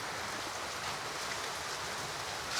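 Heavy rain pours down at a small farm, a dense, steady hiss of drops hitting surfaces, moderately loud and continuous with no voices.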